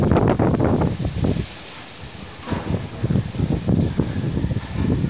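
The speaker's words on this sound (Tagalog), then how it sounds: "Wala siyang ulan pero sobrang lakas ng hangin." Strong typhoon winds from Typhoon Rolly blow through trees without rain, sending loud, gusty roars and leafy rustling in uneven surges, with a short lull midway before the gusts return.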